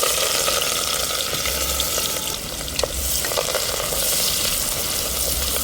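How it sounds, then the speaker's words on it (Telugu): Medium onions with green chillies, curry leaves and bay leaves frying in a pan outdoors in a garden, a loud, steady close sizzle with a few stirring clicks partway through. "ఆనియన్స్ గోల్డెన్ బ్రౌన్ కలర్ వరకు ఫ్రై చేసుకోవాలి"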